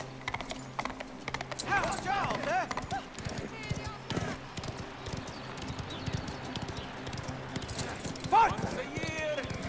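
Galloping horse hooves from Mafia The Old Country during a horse race, a steady clip-clop at moderate distance under music and game noise, with someone talking over it.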